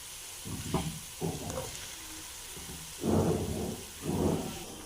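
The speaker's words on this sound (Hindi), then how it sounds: "इसमें हम प्याज डाल देंगे।" Onions dropped into a hot pan crackle and sizzle in several loud bursts, each swelling and fading, heard up close with no talk.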